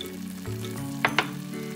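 Fried cashews are mixed into a carrot laddu mixture in a pan, a soft continuous sizzle under a low hum with two quick scraping clinks of the spoon, close and quiet, no voices.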